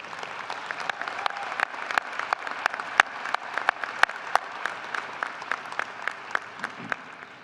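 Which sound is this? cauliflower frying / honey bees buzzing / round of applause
round of applause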